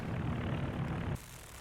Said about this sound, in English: Sounds like the IS-2 shot down that IL-2 again